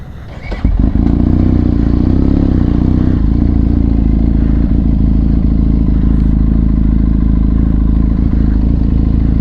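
A Benelli TRK 502X motorcycle with a Daivo exhaust starts up close and loud, then settles into a deep, rumbling, steady idle that runs continuously without revving.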